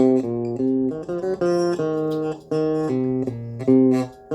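A guitar plays a riff alone, as a steady run of ringing, sustained notes and chord shapes that shift every half second or so, loud and close with no talking over it.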